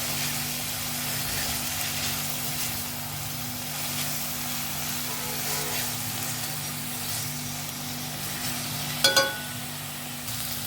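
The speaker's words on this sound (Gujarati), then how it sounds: "ડુંગળી ને કોબીજ આપણા સારી રીતે સંતળાઈ ગયા છે" Onion and cabbage sauté in a pan for green palak pulav, giving a steady, even sizzle at close range. A brief clatter near the end sounds like a spoon against the pan, and a low background hum runs throughout.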